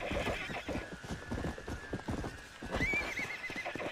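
A horse in Red Dead Redemption: Undead Nightmare, a video game, whinnies with a rising, quavering call near the end, over steady clip-clopping hooves throughout.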